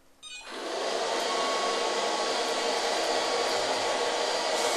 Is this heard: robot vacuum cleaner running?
yes